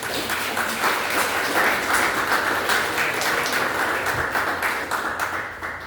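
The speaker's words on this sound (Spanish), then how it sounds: "¿Se merece un aplauso al Señor o no?" Church congregation applauding together, dense steady clapping that fills the space for several seconds and tapers slightly at the end, with no voice over it.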